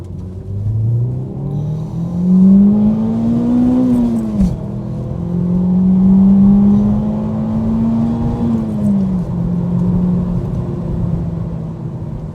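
A 2002 Ford Focus Mk1 ST engine revs up through the gears, two long rising pulls with a sharp drop at the shift between them, loud and close with a steady droning tone.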